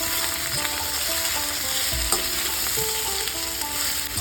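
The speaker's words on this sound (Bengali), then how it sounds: "আপনারা এইভাবে ভালো করে চিচিঙ্গের সঙ্গে এই আলুটা ভালোভাবে ভেজে নিতে হবে।" Snake gourd and potato pieces fry in a pan with a continuous close sizzle and occasional stirring scrapes, with no one talking.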